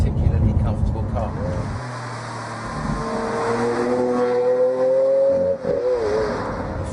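A Lamborghini Aventador LP 700-4 drives with its engine droning and rising in pitch, loud and steady with close road and wind noise.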